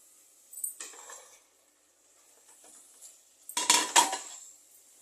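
Chicken pieces are stirred into an onion-tomato masala in a cooking pot, giving a few short, close scraping and clattering bursts separated by quiet pauses, the last one louder.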